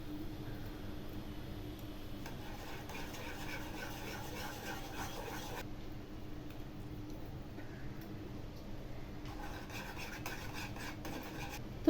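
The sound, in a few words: stirring chhana (cottage cheese) into milk for payesh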